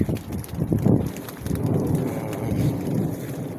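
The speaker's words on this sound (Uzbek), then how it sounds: "Hozir yomg'ir tomchilab turibdi." Steady patter of light rain with a soft hiss and scattered drips, close by, with low rumbling underneath, falling on a sweet corn field.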